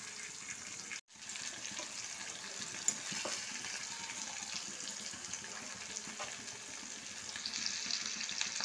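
Fish frying in a pan of oil over low heat for a vindaloo, a steady close crackling sizzle that runs throughout with one brief dropout near the start.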